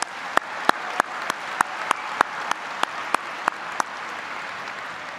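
Audience applause fills an arena at a 2023 Kettering Fairmont High School graduation ceremony, a steady wash of clapping broken by sharp, evenly spaced louder claps that cut through about every third of a second before tapering off.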